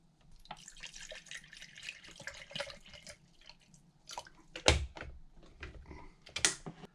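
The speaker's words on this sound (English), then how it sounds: "So I'll get some water going for the tea." Water runs and drips into a small pot for tea from a Czech army ration kit, faint and close, with scattered clinks, trickles and a couple of sharper knocks.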